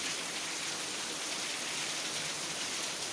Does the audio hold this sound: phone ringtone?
no